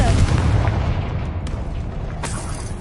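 A Confringo fire spell in Hogwarts Legacy detonates in a loud, rumbling blast that is close and heavy, with a low booming roar sustained under the scene and a couple of sharper bursts cracking through.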